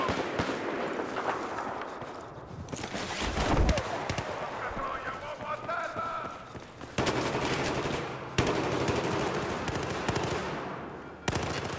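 Gunfire in the video game Battlefield, dense bursts of automatic fire and sharp cracks rattling almost nonstop, loud and close, with a few heavier thumps, as someone talks over the shooting.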